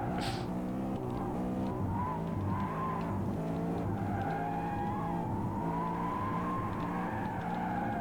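A car drifts in the Asphalt 8 racing game, with a steady, loud engine drone under long, wavering tire squeals that run throughout without a break.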